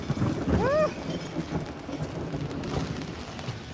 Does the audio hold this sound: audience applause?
no